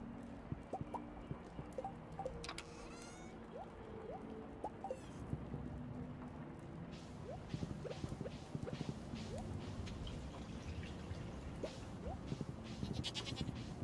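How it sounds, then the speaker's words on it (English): Goat bleating from a farm in the Stardew Valley video game, several short bleats over a steady pattering backdrop with light clicks, moderately loud and with no talking. "I thought that goat noise was coming from IRL"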